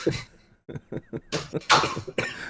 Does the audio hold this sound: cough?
yes